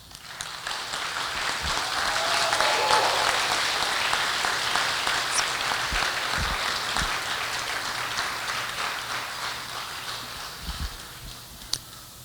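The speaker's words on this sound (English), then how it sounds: "Let's give a huge round of applause to the incredible supporters" A crowd applauds supporters at the grand opening of the reopened Minnesota Children's Museum, a sustained wash of many hands clapping that swells early and slowly fades, heard from a moderate distance.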